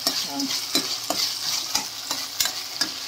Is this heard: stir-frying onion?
yes